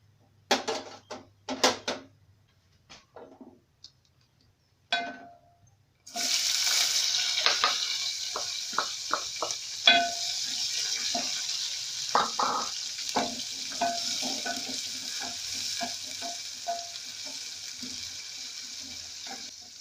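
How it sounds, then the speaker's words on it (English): Onions added to a hot pan for pizza topping, with a few clatters and taps first, then a sudden steady sizzle that keeps going under intermittent utensil clicks and stirring, close by and with no talking. "Then we can wait for it to become hot. Then we can add in our onions."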